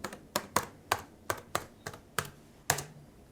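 Password being typed on a computer keyboard: about nine distinct, crisp key taps in an uneven rhythm, close and clear against a quiet room, with no talking.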